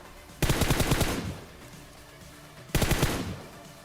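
Automatic gunfire in PUBG on the Erangel map: two rapid bursts of shots, each about a second long, loud and close, separated by a quiet gap.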